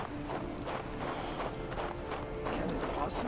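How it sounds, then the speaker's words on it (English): Horse hooves clip-clop in a steady walking rhythm in the King's Bounty 2 video game, close and continuous over a low ambient background, with a faint neigh. "The horse is a little hard to control."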